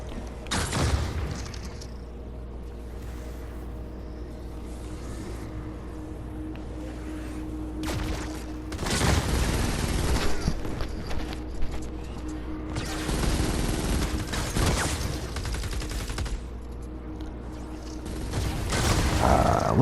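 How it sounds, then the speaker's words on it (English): Bombs exploding one after another after a Riot Husk is killed in Fortnite: Save the World, a series of loud booms and crackling blasts spread across the clip amid mechanical game noise. "You're gonna see the bombs pop up and explode over time."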